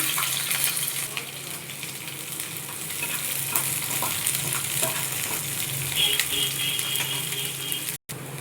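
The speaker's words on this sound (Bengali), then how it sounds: "ফোড়নটা আমার হালকা ভাজা হয়ে গেছে" A tempering of nigella seeds, garlic pieces, green chilli and chopped onion fries in oil with a steady close hiss and sizzle and occasional stirring scrapes, cut by one brief dropout near the end.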